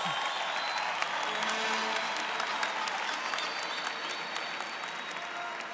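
A church gathering's audience applauds a priest's talk, a steady, dense clapping that carries on throughout at an even, fairly loud level.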